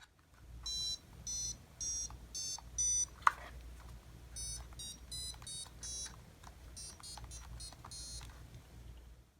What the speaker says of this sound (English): Now here's that buzzing sound that I was talking about earlier.